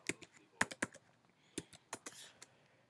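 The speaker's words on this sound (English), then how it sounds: "So you're gonna type that in, and then the password is Toor, Toor." Keystrokes on a computer keyboard entering a password, a short quiet run of scattered clicks with uneven spacing, close but faint.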